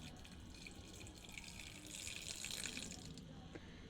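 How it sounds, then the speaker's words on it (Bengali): Rice-washing water poured into a pressure cooker holding washed rice, a soft continuous splashing pour that swells slightly near the end, quiet and close, with no talking. "আমি এই চাল ধোয়া জলটাই দিয়ে দেবো, এইটুকুনা জলই দেবো"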